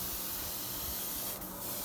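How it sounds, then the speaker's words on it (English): RubyCell mist hisses from a spray bottle in a steady, continuous spray, close and even, with a brief dip near the end. "So you can see that I am spraying in a very orderly fashion"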